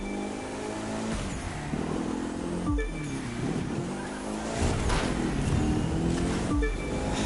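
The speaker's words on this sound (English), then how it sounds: "Time to do some drifting on a tight turn." Car drifting through a tight turn in the racing game The Crew 2, engine revving hard with rising and falling pitch and sustained tire squeal, loud and continuous throughout with no talk.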